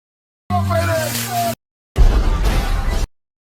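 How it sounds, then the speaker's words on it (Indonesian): Dynamite blows apart the grand Candyland mansion in a film: a loud, deep, roaring blast of about a second, preceded by a separate short burst of tonal sound. "Jango menembak kedua lututnya dan menyalakan racikan dinamit. Rumah megah Candyland hancur meledak bersama Stephen."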